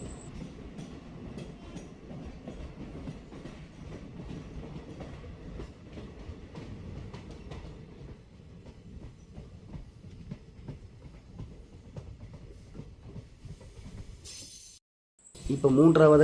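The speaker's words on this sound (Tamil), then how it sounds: "இப்போ இரண்டாவதாக இருக்கக்கூடிய குகைக்குள்ளே ரயில் பயணம் பண்ணிகிட்ருக்குங்க." A train rumbles steadily through a tunnel on the Thenmala to Sengottai line, with rhythmic rail clatter and a hollow, enclosed roar, ending in a brief quiet gap before a louder burst.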